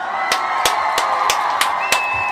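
Congregation applauding and cheering in a steady wash of voices and claps, with sharp loud hits punctuating it roughly every third of a second.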